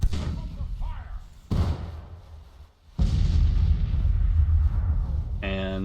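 Artillery fire in a Grand Tactician: The Civil War battle, with heavy booming thuds: one at the start, another around midway, and a sustained loud rumble in the last half, plus a brief tonal sound near the end.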